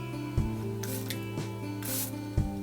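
A large bottle of makeup setting spray releases two fine, hissing bursts of mist, each lasting a moment, over a steady hum of background music.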